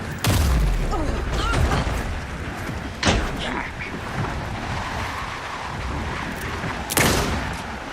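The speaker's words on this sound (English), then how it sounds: "Anderson, pin him down with gunfire for me to get the light on" Gunfire in the video game Alan Wake 2, with a few sharp loud shots spaced several seconds apart over a dense, rumbling action-scene backdrop.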